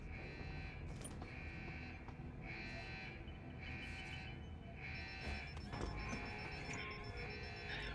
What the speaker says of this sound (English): the alarms themselves, they're annoying, but they are alarms